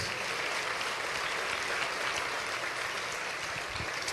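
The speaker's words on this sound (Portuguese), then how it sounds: "Dê uma forte salva de palmas para Jesus" Church audience giving a strong round of applause during a Portuguese-language sermon: a continuous, even wash of many hands clapping, sustained and fairly loud, with no talking over it.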